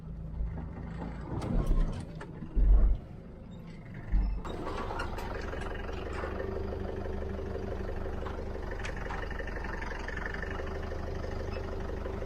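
A 4WD vehicle, Toyota or Jeep, crawling off-road in second gear on a pipeline track near Newnes, with a steady low engine drone throughout, preceded by a few bumps and knocks and faint voices.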